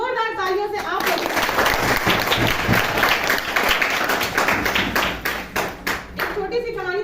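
Loud applause from an audience at an award and honour ceremony in Duddhi, Sonbhadra, a dense sustained clatter of clapping that thins out near the end, with faint voices around it.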